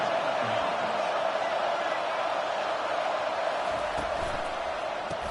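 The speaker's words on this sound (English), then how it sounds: "This crowd going to try to make life miserable for these guys." Constant broadband roar of a stadium crowd in the NCAA 25 college football video game, steady and loud throughout, with a commentator's voice talking over it.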